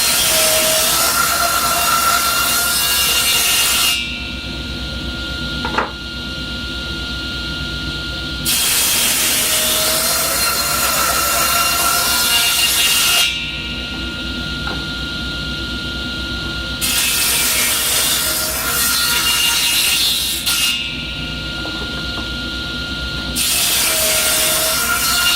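A table saw cuts a wooden board with loud, whining passes through the wood. These alternate with quieter stretches of the blade spinning free, repeating over several cuts.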